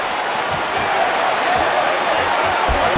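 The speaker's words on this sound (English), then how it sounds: "the cheers in here are deafening. This crowd is loving this." A dense, steady roar from the arena crowd cheering in the UFC Undisputed 3 fighting game, constant and loud throughout with faint thuds of a fight underneath.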